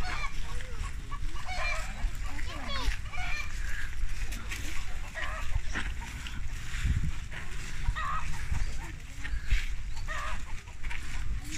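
Ducks quack and honk in a lively flock, calls overlapping steadily throughout, with faint voices and outdoor ambience underneath.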